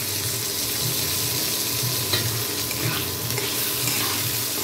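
Chopped tomatoes frying in a pan for sabudana khichdi, a steady soft sizzle and hiss close by with faint stirring, no talk.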